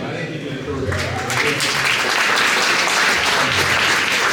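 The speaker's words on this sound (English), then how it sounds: "Round of applause for Steve." Applause from a candidate forum audience of county Democrats, starting softly and swelling at about one second into a dense, steady wash of clapping that holds to the end.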